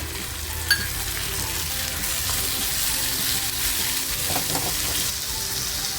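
Tomato and garlic dropped into onions frying golden in a pan for a spicy Kolhapuri mutton curry, giving a steady close sizzle throughout with a brief sharp clink near the start and light stirring scrapes later, no talk.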